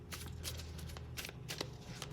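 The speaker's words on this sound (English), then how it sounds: "I did shuffle these cards." Tarot cards riffled and shuffled by hand in quick repeated bursts, close and fairly quiet, with a low steady hum underneath and no talking.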